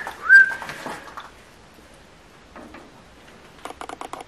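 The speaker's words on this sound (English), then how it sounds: "It sounded like a whistle" A person whistles once inside an abandoned office building. The note is short, clear and rising, and fairly close. Soft scuffs follow, then a run of light tapping clicks.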